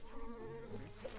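Buzzing bees from the video game Secrets of Grindea, a steady insect drone with wavering tones that holds for the whole moment, moderately loud with no talking.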